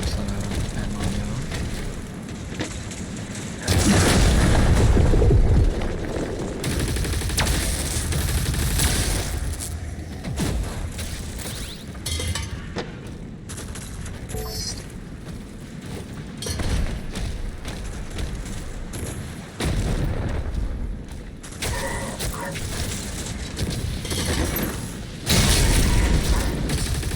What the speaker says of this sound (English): Let's use this gun for a little bit.